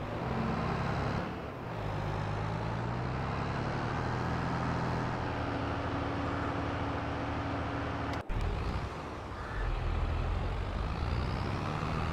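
A truck in Farming Simulator 22 drives steadily toward the workshop, its engine a continuous low rumble with a brief dip near the start and a sharp click or cut around eight seconds, no voices.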